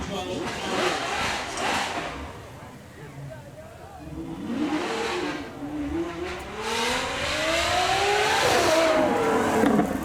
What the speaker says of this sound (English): Just listen to this V12.